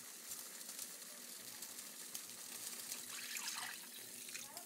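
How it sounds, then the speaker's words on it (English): Water poured into a cooking pan makes a continuous splashing gush with a faint sizzle, steady and close, with no speech. "we're going to add the water"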